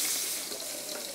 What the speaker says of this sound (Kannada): ನೀರು ಸೇರಿಸಿಕೊಳ್ತೇನೆ